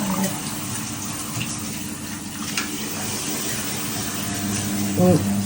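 Steady rush of water running from a tap, continuous throughout, with faint voices and a brief clink near the end.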